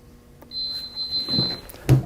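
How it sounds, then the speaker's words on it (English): A heat press gives a single sustained electronic beep for about a second after its countdown ends, followed by a couple of dull thuds. "It will count down to 0 and beep when it's completed."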